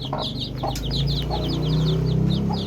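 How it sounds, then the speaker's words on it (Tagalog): Backyard chickens and small chicks in a poultry yard, with rapid repeated high peeping from the chicks over lower clucking from the hens, close and continuous, with no talk. "Yan po yung maliliit ng mga sisiw."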